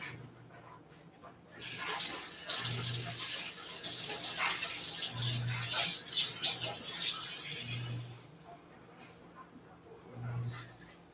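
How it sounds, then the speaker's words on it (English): Pork chops are rinsed under a running kitchen tap, a loud, steady splashing gush that starts abruptly, runs for several seconds, then thins into intermittent trickles and splatters. "wouldn't hurt to wash this off real quick."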